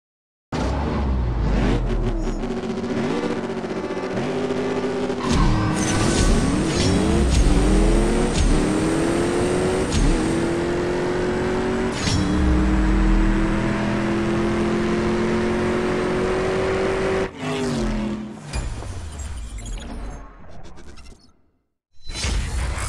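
Jaguar F-Type R engine in a CSR2 mobile drag race, revving hard through repeated upshifts with rising whines, loud and continuous, then a final roar that cuts off near the end.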